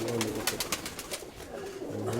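Pigeons cooing softly in a loft, low repeated throaty calls with fluttering and rustling, fairly close, with little else around.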